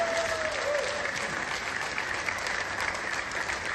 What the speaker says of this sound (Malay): Satu tepukan yang paling hebat untuk Puan Aisyah.